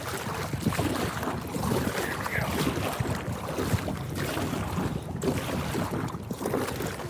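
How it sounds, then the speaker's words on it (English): Wind buffets the microphone out on a kayak on open water, a steady rough rushing that fills the whole stretch with no talking. "I know it's windy as fuck right now."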